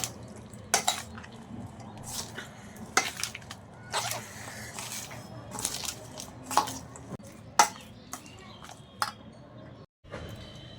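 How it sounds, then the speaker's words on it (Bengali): A spoon clinks and scrapes against a bowl while an egg and cabbage mixture is stirred for a pan pizza, in sharp, irregular taps over a soft background. "এবার মিশ্রণটিকে ভালো করে মিক্স করে নিতে হবে"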